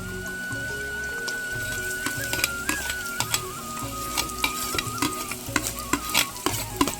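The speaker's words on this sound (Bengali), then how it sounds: "এগুলো কাঁচা দিলেও হতো কিন্তু আমি একটু তেলের উপরে ভেজে দেবো" Chopped onion, capsicum and green chilli fry in hot oil with a constant crackling sizzle. Quick spatula taps and scrapes grow busier toward the end, over a faint steady whine and no voices.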